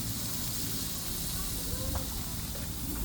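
At a barbecue night, a boneless ribeye steak is basted with garlic and rosemary, making a loud, continuous broadband hiss of sizzling fat that holds steady from start to finish.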